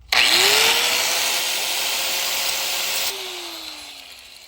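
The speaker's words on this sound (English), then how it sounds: "I went and got my angle grinder. I'm just gonna cut the top of this bolt off" An angle grinder spins up and cuts through the top of a bolt on a BMW E36 car door, a loud, close, sustained whine that holds for about three seconds, then drops and winds down.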